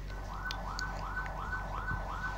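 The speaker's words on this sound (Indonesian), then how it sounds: "ini suara ambulans membawa pasien gawat darurat." A video game ambulance siren wails, rising and falling in a steady repeating cycle, about five sweeps, fairly loud and alone with a faint hum beneath.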